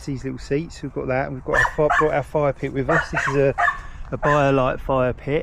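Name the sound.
dog Bumble barking at campsite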